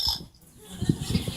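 A pet parrot gives a few short, gruff pig-like snorts in quick succession, fairly quiet and close, imitating a pig.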